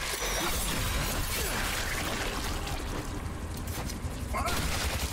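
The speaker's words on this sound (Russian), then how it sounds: "Я что-то там вообще не видел, думаю, туда стреляю" Gunfire in The Callisto Protocol video game, a loud rapid burst of shots with crashing debris and rumbling effects filling the mix, continuous and dense.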